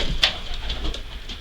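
A dropper pigeon coos in a loft setting, giving a few soft, low murmuring calls close by, with one sharper bright chirp near the start over a steady low background hum.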